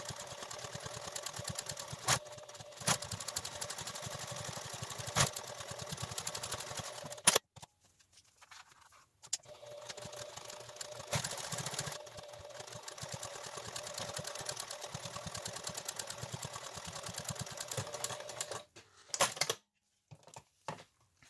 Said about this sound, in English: now I'll top stitch this